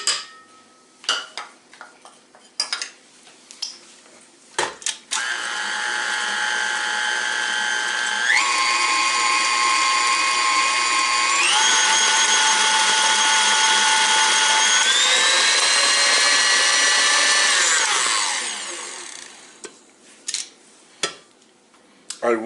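Electric hand mixer whirring loudly for about fifteen seconds as it beats lemon loaf batter with sour cream, its pitch shifting as speeds change, framed by clinks of a bowl and utensils before and after.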